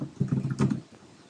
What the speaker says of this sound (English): Type in your password.